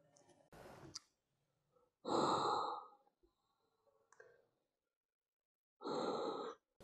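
Two rescue breaths given during a CPR demonstration: two separate forceful breath bursts a few seconds apart, close and fairly loud, with faint clicks and handling noise between them.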